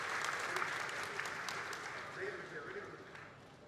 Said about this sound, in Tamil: அரங்கம் நிறைந்த கைத்தட்டல்களை மீண்டும் மீண்டும் தமிழ்நாடு முதலமைச்சர் அவர்களுக்கு உரித்தாக்கிக்